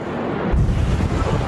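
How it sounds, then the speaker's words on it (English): The deadly chemical explosion in Beirut strikes as a sudden deep boom that rolls into a loud, rumbling roar with heavy wind-like buffeting on the microphone. "a deadly chemical explosion ripped through Beirut"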